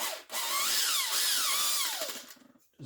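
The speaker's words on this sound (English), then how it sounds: "I just use a 5/8 reamer and" A 5/8 reamer powered by a drill opens up press-fit holes in a cartridge choker, giving a loud, steady whine with a rising and falling pitch for about two seconds before winding down.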